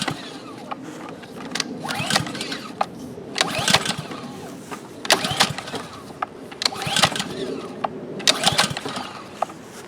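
Repeated pull-start attempts on a seldom-used Ryobi pressure washer with a Honda GCV160 engine: bursts of cord yanks and brief sputtering engine coughs that fail to catch, close and fairly loud, recurring every couple of seconds.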